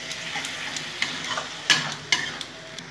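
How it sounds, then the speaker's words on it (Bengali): Mutton masala with tomato puree frying in oil, the spatula clicking and scraping against the pan in several quick irregular strokes over a soft, steady sizzle; no talking. "খুব সুন্দর করে আমি নেড়ে নেব।"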